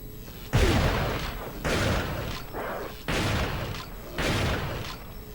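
Shotgun blasts in Resident Evil 4, four loud booming shots spaced roughly a second apart, each with a short rumbling tail.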